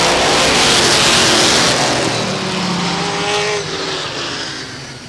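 Race cars roaring out of the final turn at Star Speedway in New Hampshire, a loud, continuous blast of engines as the pack sweeps past close by, fading slightly toward the end.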